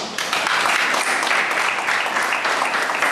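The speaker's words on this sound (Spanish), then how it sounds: "para quien pido un fuerte aplauso" Audience applause at a law lecture, a dense, continuous wash of many hands clapping at steady loudness for several seconds.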